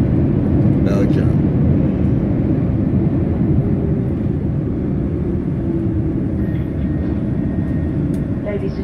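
Inside an airliner taxiing on the runway after landing in Brussels, Belgium, a loud, steady rumble fills the cabin, with a few faint bumps and rattles over it.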